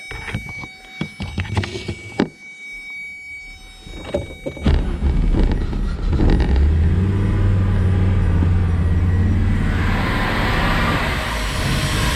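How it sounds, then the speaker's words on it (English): Audi Quattro 4000S being started and run: a few knocks and clunks first, then the engine catches and settles into a loud, steady rumbling idle close by. "So again, we can run the car."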